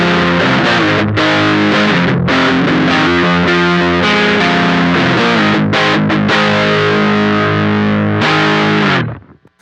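Electric guitar on the neck pickup through a Beetronics Nectar fuzz and overdrive pedal, set bright, playing thick distorted chords and riffs with brief gaps, loud and close before a sudden cutoff.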